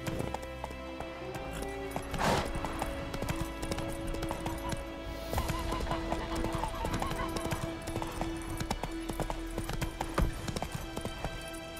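Geralt's horse Roach gallops in The Witcher 3: Wild Hunt, a steady, fast clip-clop of hooves over game music and ambience, with one snort or whinny early on.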